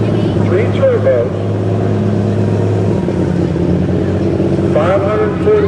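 A pulling tractor engine, a 540 cubic inch methanol-burning six-cylinder with three turbos, idles and revs at a night truck and tractor pull in Shippensburg, Pennsylvania, a loud steady rumble with rising whines, under an announcer's voice.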